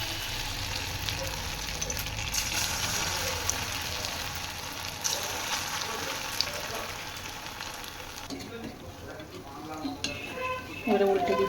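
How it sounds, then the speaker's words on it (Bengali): Potato fingers fry in hot oil, a close, steady hiss and crackle with stirring and spatter, louder bubbling bursts toward the end. "গরম তেলে ছেড়ে দিচ্ছি।"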